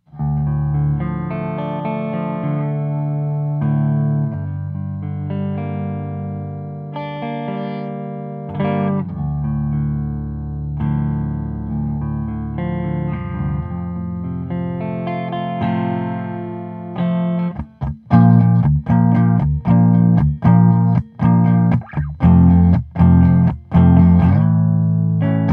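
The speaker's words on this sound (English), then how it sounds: "this is how the clean channel of the Crate turbo valve sounds through the stage right 1x12" An electric guitar on its neck pickup plays through the clean channel of a Crate turbo valve amplifier into a Stage Right by Monoprice 1x12 cabinet with a Celestion Vintage 30 speaker; sustained chords ring out first, then choppy strummed stabs, loud and close, with no talking.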